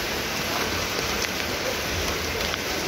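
Steady rain falling on Mall Road in the hill town of Murree, a dense continuous hiss of drops on pavement and roofs that stays even and close throughout, with no break.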